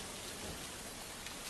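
Heavy monsoon rain pours steadily on Mumbai, a dense, even hiss of downpour with no break and no voices.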